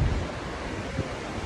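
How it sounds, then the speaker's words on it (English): Ocean waves wash onto Daytona Beach in a continuous surf roar mixed with wind buffeting the microphone, with a low thump at the start and no voices. "We at the beach right now"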